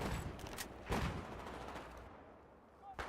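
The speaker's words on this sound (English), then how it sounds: "if you burst fire and control your recoil, you should be able to take them down in just a couple of bursts" Bursts of M416 assault rifle fire in Battlefield 4, a few short volleys spaced across a busy battlefield din, with talk faintly underneath.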